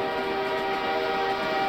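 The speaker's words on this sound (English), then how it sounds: "listen to that train horn" A video game train horn in Garry's Mod blares in one long, steady, sustained tone at close range, holding its pitch with no break and no voices over it.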